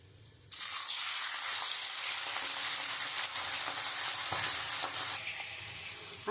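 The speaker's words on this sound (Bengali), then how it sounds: "এই মাথাগুলো নুন হলুদ দিয়ে ভালো করে মাখিয়ে নিয়েছি। এবার আমি তেলে দিয়ে দেবো।" Catla fish heads coated in salt and turmeric hit hot oil, a sudden burst of loud frying sizzle that holds steady with faint crackles and then eases off slightly, no talking.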